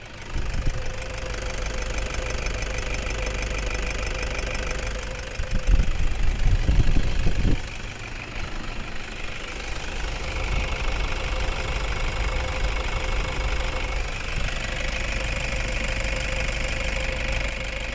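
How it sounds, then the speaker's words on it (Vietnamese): A 2014 Toyota Fortuner 2.5G diesel engine idles with the mic placed close, giving a steady, quiet, even hum with a faint knocking rhythm. A brief louder rumble swells for a couple of seconds midway, then it settles back. "Nói chung máy dầu mà nghe cái tiếng động cơ cỡ này là im rồi đó."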